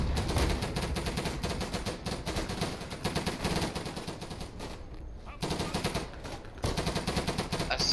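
An MG machine gun in Day of Infamy rattles in long, rapid, loud bursts, with two brief pauses between strings of fire.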